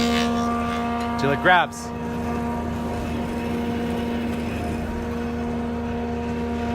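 A woodworking machine with a feed roller hums steadily at close range, a brief rising whine as it catches partway through, then settles into a constant drone beneath a short spoken phrase.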